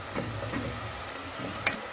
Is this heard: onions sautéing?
yes